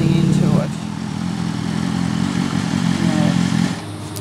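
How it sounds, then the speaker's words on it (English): Several motorcycle engines, likely including a Harley, idle and rumble steadily at close range for a few seconds, then cut out near the end, leaving quieter background. "Just letting the guys turn their engines off."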